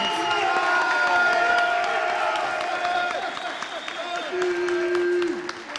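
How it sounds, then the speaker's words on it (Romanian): A crowd at a fight event claps and cheers for two fighters, a dense roar of applause with scattered whoops rising and falling, while a voice calls out over it. "vreau să aud cel mai puternic rând de aplauze pentru acești doi băieți"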